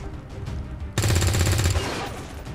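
A soldier's gunshot in the tactics game XCOM 2: one loud burst of rapid automatic fire erupts close by and rattles for under a second, then tails off into lingering echo and ambient noise.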